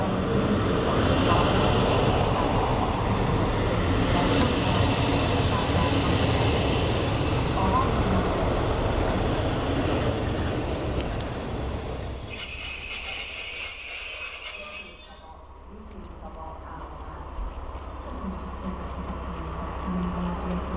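A Hungarian Intercity passenger train pulls into Békéscsaba station, its broad rolling rumble steady and close, with a thin high wheel squeal rising midway before the noise drops away to quieter station ambience.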